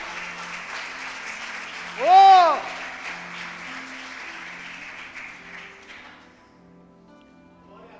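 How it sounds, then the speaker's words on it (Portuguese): A church congregation applauds during a worship service, the steady clapping filling the room for about six seconds and swelling briefly as a voice shouts out, then fading away to quiet. "Se é para Jesus, você pode aplaudir muito melhor."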